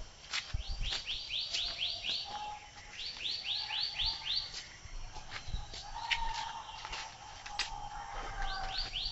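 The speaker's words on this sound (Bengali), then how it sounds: "আরে ওই যে পাখির শব্দ" Small birds chirping outdoors in open countryside, with rapid runs of repeated high tweets and separate single calls scattered across the stretch. Fairly soft and somewhat distant, over a faint background hiss.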